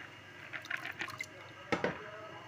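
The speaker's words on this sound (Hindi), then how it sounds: "अब हम हांडी में डाल देंगे अपनी चने की दाल" Washed chana dal is tipped into a handi cooking pot on a stove, giving wet splashing and dripping sounds in two short bursts, close and fairly quiet.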